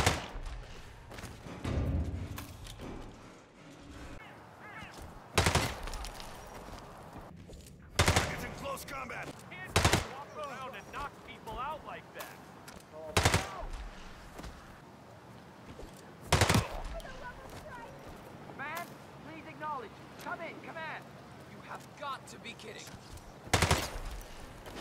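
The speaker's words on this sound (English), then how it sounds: "Silent pistol illuminations act a bit weird when you're using a fully automatic pistol." Fully automatic silenced pistol fired in the Hitman video game, sharp suppressed bursts recurring roughly every few seconds, loud against a busy background of game ambience and music.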